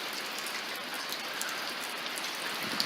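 Heavy rain from Hurricane Helene pours down on a backyard with fallen trees, a dense, continuous close hiss of drops hitting surfaces that stays steady throughout, with no talking.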